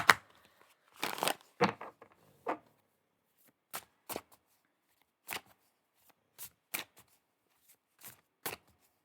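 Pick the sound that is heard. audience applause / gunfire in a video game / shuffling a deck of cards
shuffling a deck of cards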